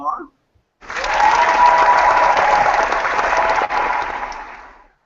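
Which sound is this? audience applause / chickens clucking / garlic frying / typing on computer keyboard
audience applause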